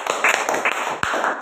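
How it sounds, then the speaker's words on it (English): Audience applause for a grade 7 student reader at a school gathering, a short burst of dense clapping that briefly dips near the end before continuing. "please give him a big round of applause"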